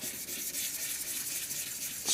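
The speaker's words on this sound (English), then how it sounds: "give it a nice even sand and try and get rid of any" A wooden shaving brush handle being sanded on a lathe, a steady, soft abrasive hiss that runs evenly and quietly with no talk.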